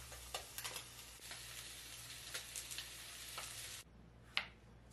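Chipotle sauce being stirred into crappie cooking in a pan, a steady quiet sizzle with small scraping clicks of the stirring, then a brief quieter moment and one sharper knock.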